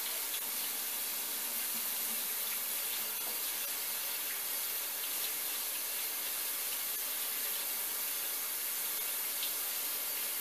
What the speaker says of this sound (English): Now you want to use water as hot as you can stand it to wash these